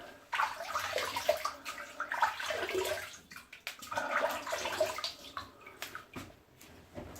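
Water runs at a barbershop sink during a straight razor shave, a steady broadband splashing and trickling that continues close by for several seconds, with brief fluctuations as hands move through the flow and a quieter stretch near the end.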